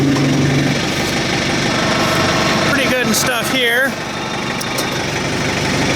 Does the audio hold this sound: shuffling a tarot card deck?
no